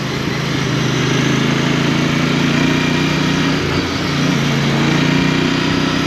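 Royal Enfield Bear motorcycle on a test ride, its engine running with a steady, loud, close drone and a constant low throb, plus a brief dip partway through, with no talk.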